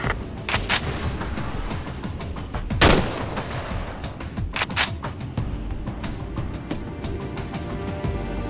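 Burst gunfire from the video game Battlefield 2: Modern Combat, with repeated short volleys of close, sharp shots across the clip, one especially loud crack standing out among steady bursts over a dense battle din.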